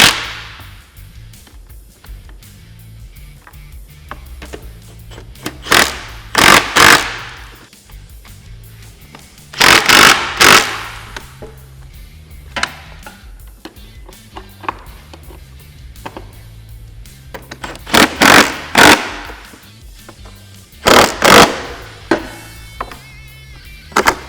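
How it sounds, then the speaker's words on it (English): Hardware on a rear seat conversion kit for a Polaris RZR XP 1000 being fully tightened with a 17 mm socket and 6 mm Allen, giving sharp clicking and ratcheting bursts in several clustered groups with quiet gaps between. "So now what we're going to do is fully tighten all of our hardware. We're using a 17 millimeter socket and a 6 millimeter Allen."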